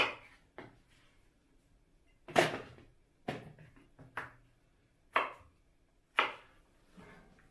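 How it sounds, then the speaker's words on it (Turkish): Knife chopping on a cutting board, about eight sharp thuds at irregular intervals, close and distinct against a quiet background. "iri iri doğrayalım."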